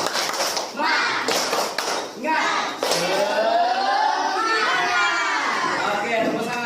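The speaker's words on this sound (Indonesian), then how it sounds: "Kita tepuk semangat ya." A primary school class in Indonesia performs a rhythmic clapping chant, sharp claps in a pattern followed by children's voices chanting together loudly in a classroom.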